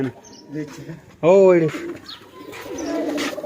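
Close village pigeons coo in a soft, throaty warble in the evening, with one loud rolling coo standing out and quieter calls around it.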